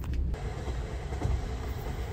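Night train rolling along rails in Kazakhstan, a steady low rumble of the carriage with faint rattling, continuous and close from inside the car, no talk.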